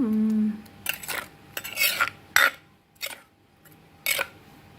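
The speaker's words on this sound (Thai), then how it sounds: "จากนั้นก็บีบมะนาวเสร็จแล้วก็คนคนคน" A spoon stirring a Thai seafood dipping sauce with squeezed lime juice in a bowl, a series of distinct scraping and clinking strokes against the dish, close and crisp, in irregular bursts with quiet gaps between.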